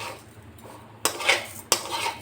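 A metal pan of coconut filling for Gokul pithe is set down on a gas stove, giving two sharp, close clanks of metal on the burner grate over a faint background hum, with no talking.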